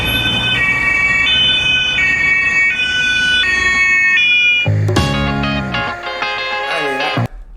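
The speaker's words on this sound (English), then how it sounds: "And the German siren" German police siren: a loud two-tone alternating hi-lo pattern repeating steadily for several cycles, then a different blaring tonal burst and traffic noise near the end.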